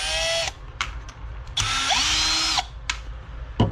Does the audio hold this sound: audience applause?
no